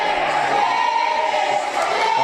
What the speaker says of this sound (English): Not a very complimentary chant from our crowd to New Talent Initiative member Daniel Eads